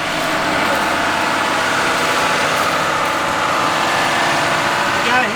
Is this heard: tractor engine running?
yes